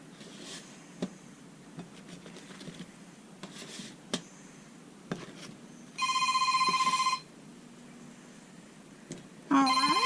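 A mobile phone rings indoors in a kitchen while crescent rolls are being plated, sounding as one steady electronic ring burst lasting about a second, then another starting near the end, over faint clattering and handling noises.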